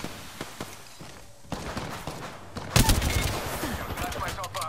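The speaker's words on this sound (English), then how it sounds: "Getting shot at." Gunfire in Apex Legends: a dense burst of shots erupts midway and continues loudly over a busy game mix, preceded by scattered thumps and footsteps.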